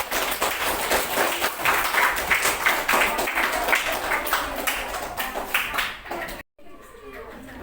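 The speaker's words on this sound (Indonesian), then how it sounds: "tepuk tangan untuk kelompok 1 semuanya" In a classroom, children clap for a presenting group with energetic, uneven clapping mixed with children's voices. The sound cuts off abruptly near the end, and a quieter stretch follows.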